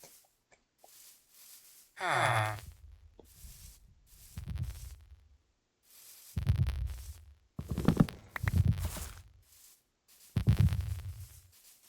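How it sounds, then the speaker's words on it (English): A warden's heartbeat in modded Minecraft, heard as deep, low thumping pulses in a slow, uneven rhythm, fairly close and clear against near silence, with a few breathy sounds between the beats. "It's a heartbeat."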